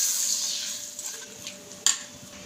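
A spoon mixing tempered tadka into curd for a yogurt chutney, with soft wet stirring and faint clinks, ending in one sharp knock against the bowl.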